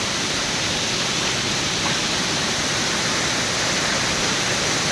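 Strong, fast-flowing water rushing through Mussoorie during heavy flooding, a loud, unbroken roar close by with no voices.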